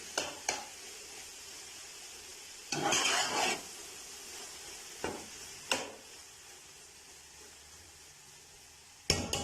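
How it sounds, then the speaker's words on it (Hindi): Khoya stirred into carrot halwa in a pot with the flame off: faint background hiss broken by a few scraping stirs and sharp spoon clacks against the pot, one longer scrape midway, no talking. "खोया डालेंगे और चूल्हे की फ्लेम बंद कर देंगे और उसको अच्छी तरह मिक्स कर लेंगे"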